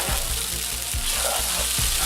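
Instant noodles fry in a hot pan with a steady, loud sizzle, and dull stirring scrapes repeat about every half second or so throughout, with no talking.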